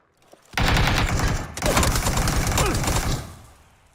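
Rapid bursts of video game gunfire, loud and sustained in two long volleys with a short break between, fading out at the end.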